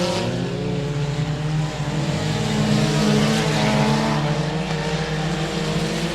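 Race cars roar around the 67 Speedway of Texarkana oval in a loud, continuous engine drone that swells slightly in the middle, with no voice over it.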